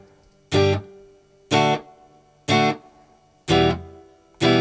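Five evenly spaced guitar strums ring out alone, each a short bright chord with a slightly gritty edge, separated by brief gaps of silence.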